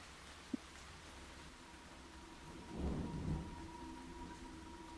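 Steady rain falls in a soft continuous hiss, joined midway by a low rumble of distant thunder, with no voices present.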